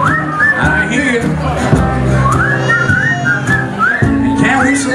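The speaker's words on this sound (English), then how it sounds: "You can't whistle on the same side." A person whistles short rising and falling phrases, fairly close, over a busy background of overlapping voices and other sounds.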